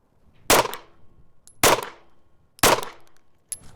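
Four sharp shots from a SIG P365 XMacro handgun, fired on a range at roughly one-second intervals, each a loud crack with a short decaying tail, the last one cut off at the end.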